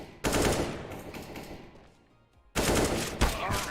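Rapid bursts of automatic gunfire from Counter-Strike: Global Offensive, loud and close, a dense volley that fades into a quieter lull before another sharp burst of shots resumes.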